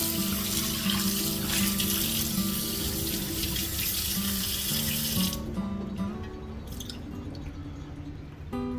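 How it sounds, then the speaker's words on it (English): Water runs from a sink tap over a cast iron skillet being rinsed, a steady rushing splash that ends abruptly, leaving faint drips and a few clinks. "So let's rinse it out. We got our skillet rinsed out."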